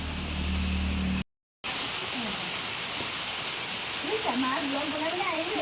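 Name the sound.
rain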